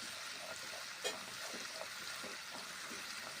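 Spice masala is stirred and fried with a little water for an okra curry, giving a soft continuous sizzle and hiss with faint scraping strokes and one brief knock, quiet and close.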